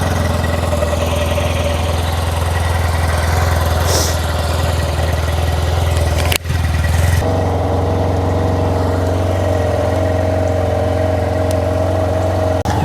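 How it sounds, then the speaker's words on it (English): A Yamaha TMAX maxi scooter engine idles steadily and close by, a constant low drone with a brief clunk partway through and no talking. "Start the bike, and here how she runs."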